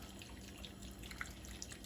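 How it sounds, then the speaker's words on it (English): Beef broth is poured into a soup pot in a home kitchen, a continuous close trickling and splashing with a couple of small drip accents, heard alone without voices. "we're gonna pour the rest of the beef broth in there"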